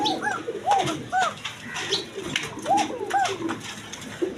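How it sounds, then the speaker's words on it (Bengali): Paushiraj pigeons cooing in a repeated, rounded pattern of calls, fairly close and moderately loud, with a few pauses between bursts and faint background noise. "এটা দুই রকমের ডাকে একটা ডাক আছে কলসির মতো ডাকা ডাকে"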